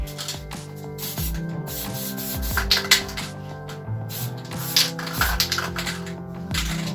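A spray paint can releases short hissing bursts of black paint, a few brief sprays spaced apart over steady background music.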